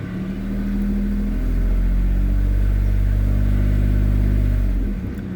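A 2008 Pontiac G6 GT 3.5 V6 engine revs up close and loud, holding a steady, heavy droning roar for several seconds before dropping back down to idle.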